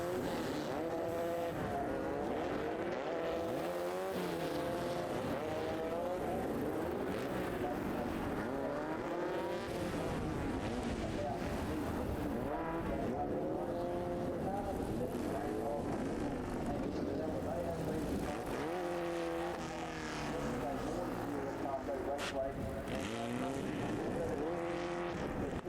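Formula Vee race cars circling a Western Australian circuit on warm-up laps, a continuous blend of buzzing engines that rise and fall as cars pass, steady and fairly loud throughout, with some talk over them.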